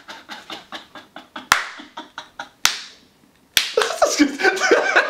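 Hand claps begin as a quick run of light slaps, then slow to a few loud, widely spaced claps, followed by chuckling and a brief burst of voices.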